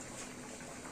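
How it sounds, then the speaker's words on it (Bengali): Turnip curry with chicken feet and heads bubbles in a pot on the stove, a steady soft rolling boil with constant watery churning and no voices. "আমাদের তরকারি কি সুন্দর ফুটতেছে"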